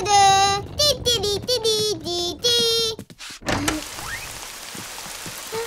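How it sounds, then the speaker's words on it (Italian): Rain falls steadily in the Bing cartoon, a soft continuous patter following a burst of high-pitched character voices and sung notes, then continuing alone. "Oh! Sta piovendo! Sì, sta piovendo."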